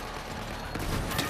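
A Hyperion shotgun fires in Borderlands 3 during co-op gameplay, with two short, fairly faint blasts about half a second apart over quiet background noise.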